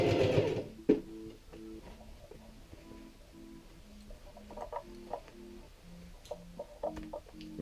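A sewing machine stitches through thick denim at a jean fly zipper, running in short, evenly repeated bursts with brief pauses between them, close and clear with no talking.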